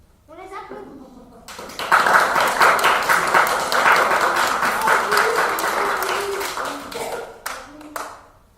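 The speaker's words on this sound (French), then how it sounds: "On les applaudit." An audience applauds performing trained dogs at a cultural centre stage show, dense sustained clapping that swells after a brief voice at the start and fades near the end.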